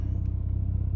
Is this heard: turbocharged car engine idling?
yes